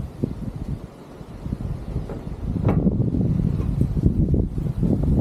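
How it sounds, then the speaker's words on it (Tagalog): Strong wind at an open hilltop setting near Candle Monument rumbles and buffets the microphone, softer at first and then building into a steady, louder roar. "Lakas ng hangin ngayon."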